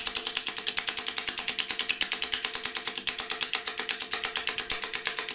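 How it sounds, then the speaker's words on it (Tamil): Eggs are whisked briskly in a bowl with salt added, a fast, steady, even rhythm of close clicking strokes that runs on without pause and with no talking. "எக்கை நல்லா பீட் பண்ணிக்கணும்."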